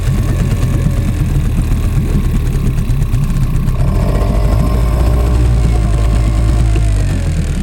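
A small 2003 outboard boat motor idles steadily and close by, a continuous low throbbing drone with no talk.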